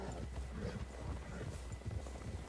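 Horse hooves clip-clop in Red Dead Redemption 2, a steady rhythmic trotting that stays close and fairly loud over low game ambience, with no clear whinny standing out.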